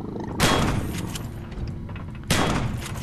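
Shotgun blasts in the survival video game Empyrion: two loud booming shots about two seconds apart, each with a sharp broadband crack and a lingering rumbling tail.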